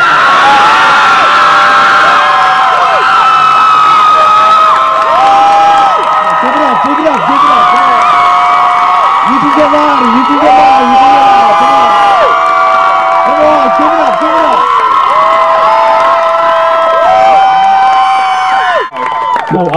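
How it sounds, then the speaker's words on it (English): A large crowd cheers, whoops and claps loudly and continuously for a congressman at an outdoor Philadelphia event, with shouts and some children's voices mixed in, while music and a voice carry through the din. "deserves the loudest cheer you've ever given your life"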